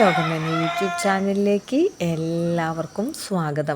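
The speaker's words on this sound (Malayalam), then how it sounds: "കുയിലിൻ്റെ സൗണ്ട് ഉണ്ട് കോഴിയുടെ സൗണ്ട് ഉണ്ട് കാക്കയുടെ ഒക്കെ ഉണ്ട്" A rooster crows repeatedly in the dark early morning, its rising calls coming in short bursts beneath someone speaking steadily in the foreground.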